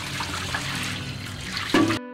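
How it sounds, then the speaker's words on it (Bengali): Plenty of water pours into a cooking pan set up for steaming an Oreo pudding, a short splashing gush rising near the end over a steady background. "একটা প্যানে দিচ্ছি বেশ কিছু পানি"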